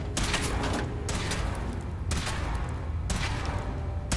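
Rapid, dense gunfire from a power armor test in the Fallout 4 video game rattles continuously with rhythmic heavier bursts about once a second over a constant roar.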